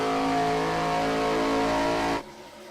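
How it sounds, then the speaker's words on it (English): A tight pack of ARCA-series race cars from the iRacing sim at Charlotte drones loudly and steadily with layered engine harmonics for about two seconds, then cuts off abruptly into near silence. "That's just a knot of cars right there."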